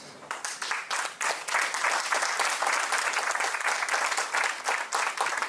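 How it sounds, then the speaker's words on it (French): An audience at a business day event applauds. Separate claps build quickly into dense, lively clapping that stays strong and close, then thins slightly toward the end. "Merci. C'est bien d'applaudir."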